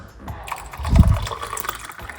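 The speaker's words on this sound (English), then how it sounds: "Pour some more hot water on it, some lukewarm water, and cover it" Hot water is poured over garlic, a brief liquid splash and gush swelling in the middle of the clip, close and fairly loud over light clatter.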